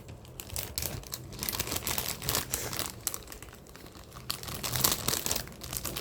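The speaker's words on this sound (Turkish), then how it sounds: "Şimdi ben bunları poşetine koyayım." Mochi is slipped into a plastic bag, producing steady crinkling and rustling of thin plastic that swells and fades in close, busy bursts over several seconds, with no talking.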